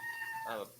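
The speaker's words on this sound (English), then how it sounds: "think I hear your cat." A house cat gives one short meow near the end, faint and partly under a voice in conversation.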